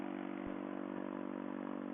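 An Aprilia RSV Mille motorcycle being ridden, heard as a steady, even engine drone at cruising speed that stays at one level throughout.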